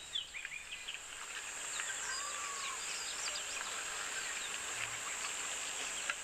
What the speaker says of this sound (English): I'm trying to figure out what bird this is that he's calling now.